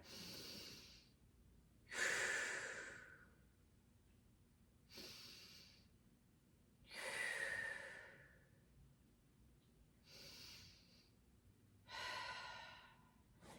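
Slow diaphragmatic breathing, full cylinder breaths taken while sitting tall, with six clear breath sounds spaced about every two to three seconds, each a soft airy rush, close and alone with no talking.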